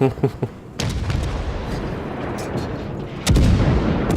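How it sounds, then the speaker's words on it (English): Warship guns firing in the World of Warships video game, several heavy booming salvos with sharp onsets and a rumbling tail, loud and close, one big blast near the end, with some talk mixed in. "now Flag is basically firing at the other ship, that Independence out there"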